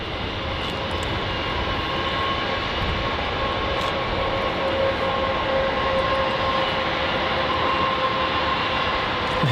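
A Jetstar Airbus A320 jet roars steadily at Melbourne Airport in heavy wet weather, a loud continuous engine rumble with a faint whine, no voices.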